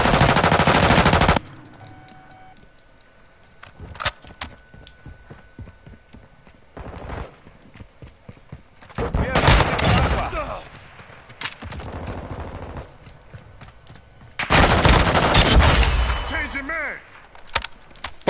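Gunfire in the video game Modern Warfare 2, loud bursts of rapid automatic shots in several separate volleys between quieter stretches of game sounds.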